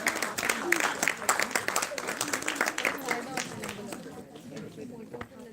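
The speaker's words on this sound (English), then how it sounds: "A big round of applause for Dr. Professor Kia Dharamveer." Audience applause at the Basant Utsav WICCI live event 2023 at CII Chandigarh, a crackling spread of clapping that carries on for several seconds with voices mixed in, then tapers off toward the end.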